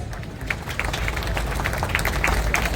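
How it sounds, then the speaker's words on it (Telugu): Applause at a wedding ceremony, a crowd clapping steadily at a moderate level with scattered sharp claps over a low background rumble. "చప్పట్లు ప్లీజ్"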